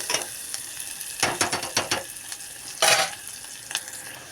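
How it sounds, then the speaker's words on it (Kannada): Vermicelli fries in a pan and is stirred in short bursts of scraping, clattering strokes over a soft sizzle, close and clear with no talking. "ಇದು ಒಂದು ಸ್ವಲ್ಪ ಚಲೋತ್ನಾಗ ಫ್ರೈ ಆಗಲಿ ರೀ"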